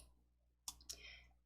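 A computer mouse clicks twice in quick succession, up close and fairly quiet over a low steady hum, while selecting a hyperlink in a Hangul word-processor document.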